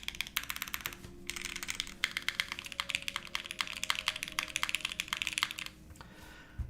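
Fast typing on an Enter67 v2 mechanical keyboard gives dense, bright clacking keystrokes in quick bursts. A short pause comes early, and the typing stops near the end. It is close and clear, with no voices.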